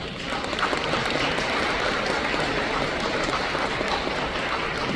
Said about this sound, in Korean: 박수로 한번 축복하겠습니다.